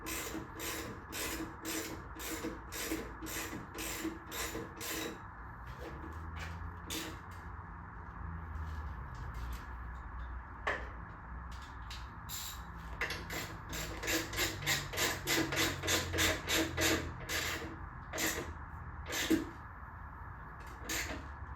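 Rear shock mounting being tightened on a Shovelhead motorcycle: a run of sharp, evenly spaced metallic ratcheting clicks, close and fairly loud, pausing briefly midway before resuming faster over a low background hum, with no talking.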